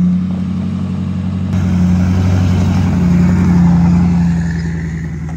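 A GMC Yukon truck engine running close by, a loud steady rumble with a slight rise in revs midway before settling back.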